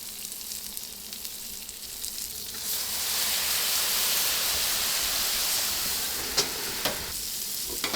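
Asparagus sizzles in garlic butter on a hot Blackstone griddle, the hiss swelling louder as it's stirred, with a few sharp clicks of a utensil near the end.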